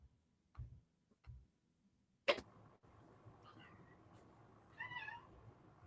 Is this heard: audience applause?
no